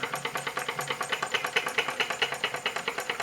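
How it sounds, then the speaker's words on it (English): An Essex reproduction Type 1 hot air engine runs steadily, making a quick, regular mechanical chuffing and clicking rhythm at about five beats per second. It is close, fairly quiet and heard alone. "A really nice running engine."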